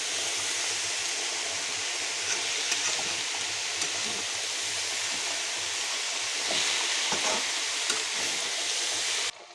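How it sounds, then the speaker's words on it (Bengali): Boiled kidney beans frying with ginger and green chili in a pan, a loud continuous hiss and sizzle holding steady and then cutting off abruptly at the end. "এখন আদা আর কাঁচা লঙ্কা দিয়ে ফ্রাই বানাচ্ছি"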